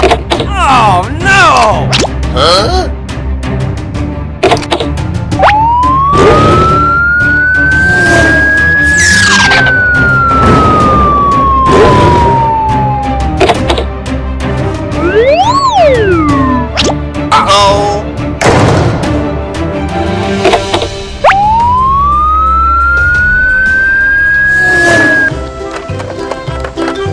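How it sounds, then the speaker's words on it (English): A toy police car siren wails in long rising and falling electronic sweeps, loud and close, with a sharp chirp midway and clacks and knocks of toy play between the sweeps. "Police car."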